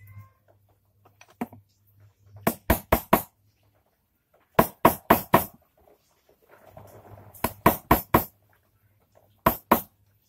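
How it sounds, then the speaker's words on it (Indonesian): A tool taps a stuck throttle body clamp bolt in quick metallic bursts of three or four sharp knocks, separated by pauses, close and loud with faint background hum. "Diketok-ketok."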